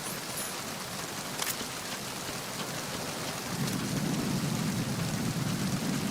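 Rain in Metal Gear Solid 2 pours as a steady, dense hiss, joined partway through by a deeper rumbling roar that holds to the end.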